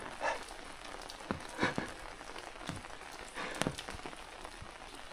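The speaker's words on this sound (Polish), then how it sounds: "Deszcz się powolutku uspokaja." Light rain easing off outdoors near palace ruins, a steady soft patter with a few sharper drops landing close by; no voices.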